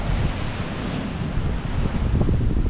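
Strong wind and breaking waves at sea off Kelantan, with a constant, loud roar of surf and gusts buffeting the microphone for the whole stretch.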